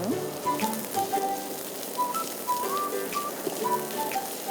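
Chopped onion, garlic and ginger frying in butter for a creamy pink sauce spaghetti give a steady, moderate crackling hiss, with faint tonal whistles drifting over it.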